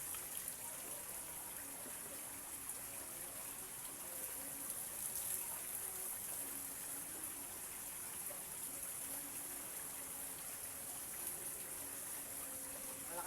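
Water gushing strongly from a pipe at a well, a steady, continuous rushing flow with a constant hiss, fairly faint and unbroken throughout.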